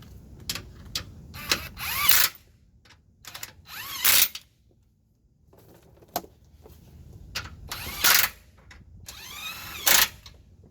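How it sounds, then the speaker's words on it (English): A ratchet tightening 14mm bracket bolts on a 2003-2009 Toyota 4Runner during rack and pinion replacement, rapid clicking bursts in several loud runs separated by short pauses, close up, no talking. "Then you can tighten up these bracket bolts."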